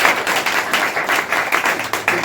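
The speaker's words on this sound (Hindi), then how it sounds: "विद्यार्थी लोग आप लोग ताली बजाइएगा।" Students clap together in a burst of applause at an honour ceremony for teachers, a dense, steady patter of many hands with no talk over it.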